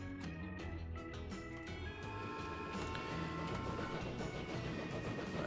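Trains rolling out of a rail depot in Transport Fever, a steady mechanical rumble with clicking, clattering wheel noise and faint tonal hums, moderately quiet and continuous throughout.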